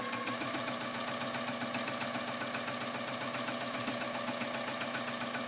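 A sewing machine runs continuously during free-motion quilting, pedal held down, giving a loud, close, steady rapid needle hum and chatter throughout.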